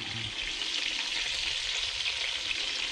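Lardons sizzle hard in a frying pan, a loud, steady, close frying hiss that fills the whole stretch without pause, no speech.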